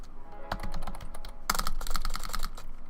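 Rapid clicking of keys on a computer keyboard while using Fusion 360, steady and close, with a denser burst of typing partway through.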